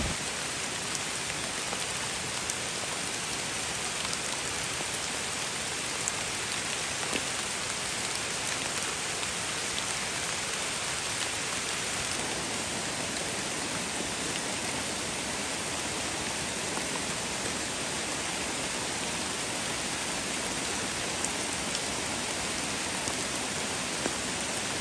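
Heavy rain in a forest driven by strong wind, a steady dense hiss of downpour on leaves and ground that holds unbroken for the full length, loud and close with no voices.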